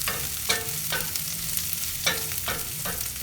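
Jalapeno peppers for an omelette sizzle steadily in a hot pan, with several distinct stirring scrapes punctuating the close, continuous frying hiss; no voices.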